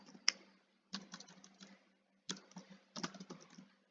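Typing on a computer keyboard while entering a search into an online product catalog: a few short runs of soft, close key taps broken by pauses, in a quiet room.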